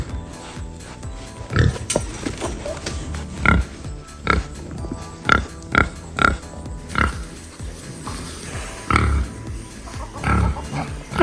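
Pigs on a farm grunt and oink in a string of loud, close snorts that come in bursts of short calls, with quiet gaps between them and faint voices in the background.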